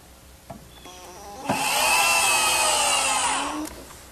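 A power drill whirs up and drives a screw into hard oak steadily for about two seconds, rising in pitch under load before winding down, preceded by a few small knocks.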